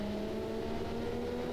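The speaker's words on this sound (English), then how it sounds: "if we just start the car, you can probably hear it just humming away, and then we can just turn up the revs a bit" A 12000rpm V12 engine in a small hatchback idles at steady revs in the BeamNG video game, a smooth, even, buzzing hum with no voices.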